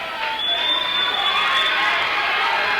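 Crowd at a high school wrestling match between Del Oro and Rocklin, a loud sustained wash of cheering and shouting with a few higher whoops near the start.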